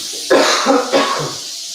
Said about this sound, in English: got a little cough still, as you can tell